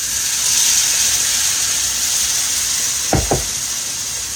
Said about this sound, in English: now then you pour your water